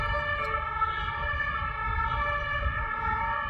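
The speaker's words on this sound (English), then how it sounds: "You're not in France unless you hear that sound, that siren." A European two-tone emergency siren wails at a distance on a street in Nice, France, steady and moderately faint over low traffic rumble.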